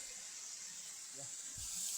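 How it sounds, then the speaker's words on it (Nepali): Water flows downstream from upstream through a jungle as a faint, steady hiss with a soft low voice or two underneath. "उँभोदेखि पानी आउँदैछ"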